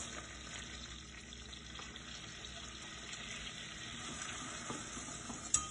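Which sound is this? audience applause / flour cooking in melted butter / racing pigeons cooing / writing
flour cooking in melted butter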